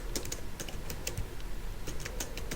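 Keys clack at a steady, moderate pace on a computer keyboard during a session in Adobe Illustrator, the taps fairly soft and close with no talking.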